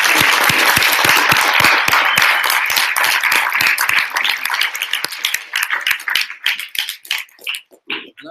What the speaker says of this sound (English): I'd like to get one last round of applause for all of them and all of you and all of them.